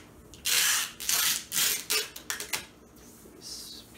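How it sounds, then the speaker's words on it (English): Shipping tape being pulled off the roll and pressed over a seam covered with scotch tape on a sign trailer, heard as several loud close ripping pulls, then shorter crackling tugs and a fainter final strip, no talk. "I'm going to cover that seam with the scotch tape with this shipping tape."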